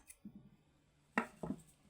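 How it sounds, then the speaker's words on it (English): Scissors snipping crochet yarn, two quick close cuts after a few faint handling sounds in a quiet room. "you use your scissors"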